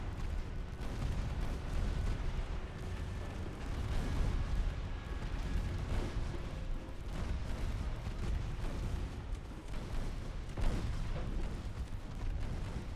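Naval gunfire and torpedo launches in the warship game Ultimate Admiral: Dreadnoughts, heard as a steady wash of distant booming shots and rumbling blasts under continuous battle noise, moderately quiet.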